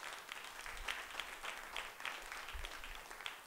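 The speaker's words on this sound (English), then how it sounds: "can we give her a round of applause?" A church congregation at a Sunday service applauds, soft, fairly distant clapping that swells and dips in gentle waves with faint room murmur underneath.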